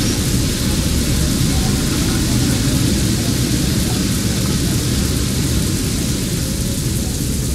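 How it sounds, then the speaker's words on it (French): An airplane passes overhead in a bus driving game, a steady broad roar that holds constant throughout like a loud, continuous rush of engine and wind noise. "J'entends un avion."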